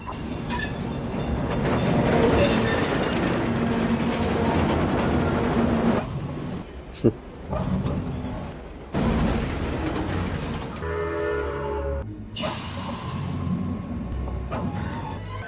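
Train at a New York subway platform in a Superman movie: a loud rumbling, clattering rush that cuts off abruptly in places, with sharp knocks and bursts.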